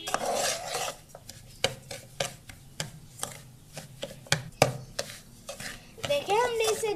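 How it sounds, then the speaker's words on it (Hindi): A spoon stirs and scrapes semolina as it roasts over a low flame in a pan, making repeated rough strokes that rise and fall. "चम्मच को हम हिलाते जाएंगे वरना सूजी नीचे से जल जाएगी।"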